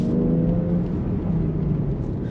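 BMW X3M Competition with its S58 engine pulling away, a steady low engine rumble and whir heard from inside, moderately loud and even with no talking.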